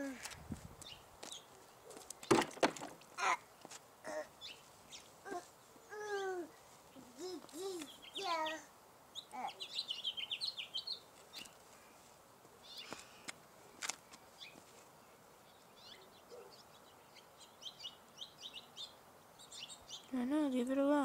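Birds chirp and cluck in short scattered calls near a baby, mixed with people talking and a few thumps and footsteps.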